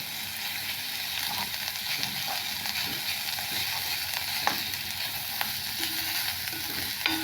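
Chopped green chili and tomato fry in a pan with a steady, fairly loud sizzle, with occasional stirring scrapes and small pops throughout and no talking.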